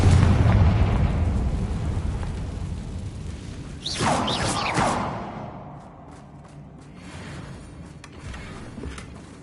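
A heavy explosion from the Confringo fire spell in Hogwarts Legacy opens with a loud low boom. A second fiery burst with a whooshing roar comes around the middle, then crackling debris settles into fainter rumbles.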